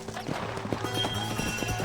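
Horse hooves galloping in Red Dead Redemption, a quick run of clip-clop beats close by over steady game music, lasting under two seconds.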